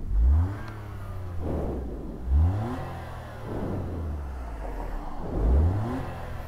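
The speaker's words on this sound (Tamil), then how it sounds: "நம்ம எக்ஸாஸ்ட் சவுண்டு வந்து கேட்குமான்னு தெரியல, நான் அழுத்துறேன்." A modified 2025 Maruti Swift ZXI revs its engine three times through its exhaust, each rise in pitch sweeping quickly upward before dropping back to a low idle hum between blips.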